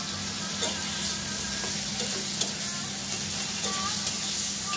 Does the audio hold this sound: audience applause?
no